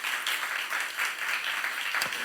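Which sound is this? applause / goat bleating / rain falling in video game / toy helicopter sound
applause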